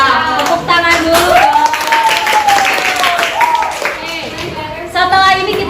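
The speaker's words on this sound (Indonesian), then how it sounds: "Tepuk tangan dulu." Children in a classroom clap their hands together, a steady patter of claps throughout with children's voices and a sung or called tone rising over it.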